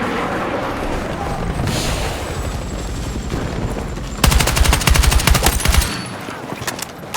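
Automatic gunfire in a Battlefield 6 Conquest match: a steady buzz of shots through the first half, then a loud, fast machine-gun burst for about two seconds near the end, with faint voices under the battle noise.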